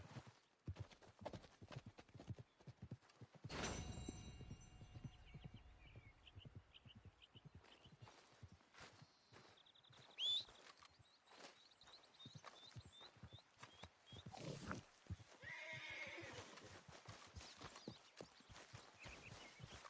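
Horse hooves clip-clop in the Red Dead Redemption 2 video game, uneven steps at moderate distance with a brief whinny and scattered game ambience, fairly quiet overall.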